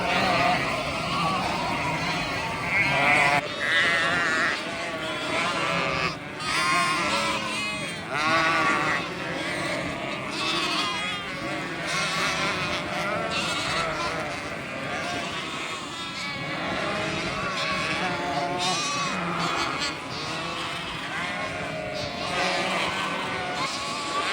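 Dozens of ewes bleat continuously in crowded farm yards, a dense chorus of overlapping calls near and far, with a voice occasionally heard among them.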